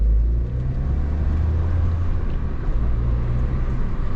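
A 2-liter turbo EJ20Y hot hatch engine, 280 horsepower and fitted with winter tires, drones low and steady while driving, a loud cabin rumble with slight swells in pitch and no talk over it.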